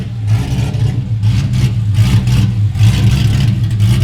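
A loud truck engine with no mufflers connected runs with a deep, throaty rumble, its revs rising and falling in uneven pulses throughout.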